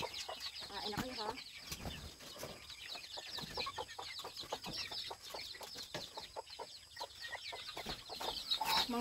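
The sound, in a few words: newly hatched chicks cheeping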